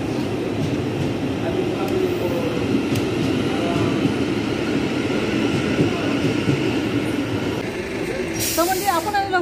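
Inside a train running from Gatwick to London, a steady loud rumble of wheels and carriage noise fills the space throughout, with muffled voices in the background and a brief higher squeal near the end.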